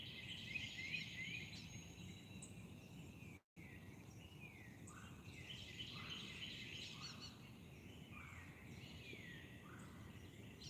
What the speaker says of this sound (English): Can y'all hear the turkeys chirping?